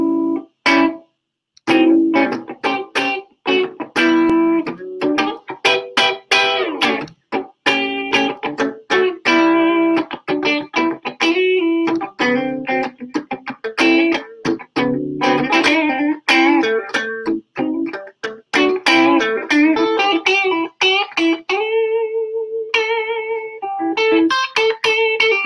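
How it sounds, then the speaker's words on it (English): An electric guitar with a slightly gritty, mildly distorted amp tone plays a steady run of picked notes and chords, loud and continuous. "you just get a tiny bit of the distortion, and it's just a little bit dirty"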